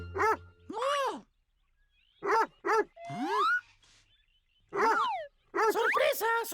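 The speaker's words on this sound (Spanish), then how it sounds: "¡Perro!" A dog barks and yips in short bursts with whimpering, whiny tones between, some barks probably voiced in a cartoon style, mixed with animated speech in a children's animal-sounds program.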